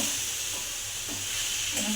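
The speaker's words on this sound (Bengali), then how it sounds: "শাপলা ঘন্ট রান্না করছি আমি" Water lily (shapla) ghonto cooks in a wok with a continuous soft sizzling hiss close by. Faint stirring scrapes come through at intervals.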